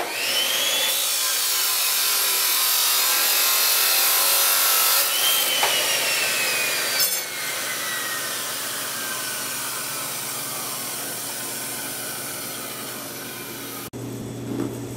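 Hand sawing through a steel snow blower scraper blade to cut off a marked length, a steady continuous rasping stroke sound at close range with a brief shift midway and no talking.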